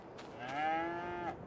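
A single drawn-out cow moo, clear and tonal, rises and holds for about a second. It comes from cattle in the farming video game Farming Simulator 22, heard fairly quietly with no talking over it.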